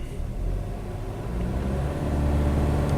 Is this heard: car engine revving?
yes